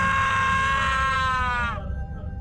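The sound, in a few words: a man's loud scream sound effect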